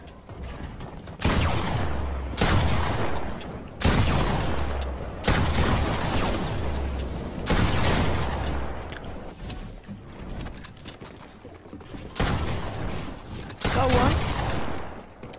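Repeated bursts of gunfire in a Fortnite Battle Royale match, loud broadband volleys arriving in clusters every second or two across the span, with players' voices partly underneath.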